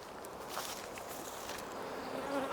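Honey bees buzzing around a blocked front entrance of a hive in a colony being converted to a Bailey comb change, a continuous close droning hum of many wings with no voices.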